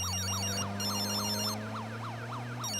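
Phone ringing with a repeating electronic ringtone, a warbling chirped pattern that pauses briefly and resumes, steady and fairly loud over a constant low hum.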